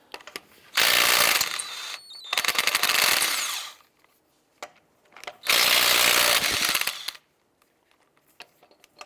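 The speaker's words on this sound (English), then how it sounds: "Using a 19mm socket, let's go ahead and remove the lug nuts." Lug nuts being removed with a 19mm socket from the rear wheel of a 2003-2012 Chevy Colorado, heard as two long, loud bursts of power-tool whirring with a shorter burst between and clicks in the pauses.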